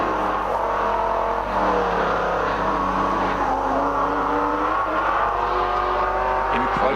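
Race car at speed during the 1980 Bathurst 1000 at Mount Panorama, a steady loud engine roar with shifting pitch running continuously, with a commentator's voice faintly mixed in.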